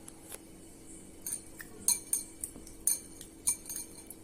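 Spoon clinking against a metal vessel while chili rasam is stirred, a series of light, bright metallic taps in an irregular rhythm, close and fairly quiet, with no talking.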